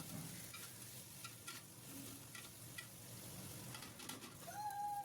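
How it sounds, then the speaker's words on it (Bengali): Ginger and garlic paste with onions sautéing in oil for khichuri: a faint, steady sizzle with soft spoon scrapes and taps against the pan, quiet and close. A brief bird coo is heard near the end, and no one speaks. "এবার এখানে 1 চামচ আদা বাটা আর 1 চামচ রসুন বাটা দিয়ে মশলাটা একটু কষিয়ে নেব।"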